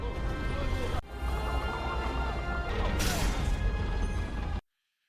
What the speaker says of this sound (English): In an instant, he shatters the handcuffs in the cell holding him.